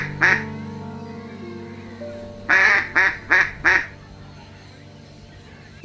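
Call ducks quacking at a farm, several loud close quacks: one early call, then a rapid run of four quacks after a pause, with a steady hum in the background.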